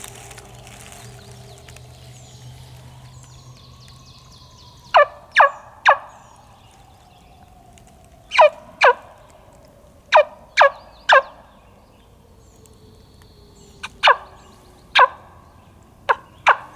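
A wild longbeard turkey gobbles in sharp, rattling bursts, several separate gobbles spaced seconds apart, loud against a quiet outdoor background with faint softer calls between.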